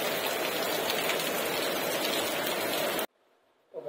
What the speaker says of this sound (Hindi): देखो भयंकर बारिश है भाई जयपुर में भयंकर।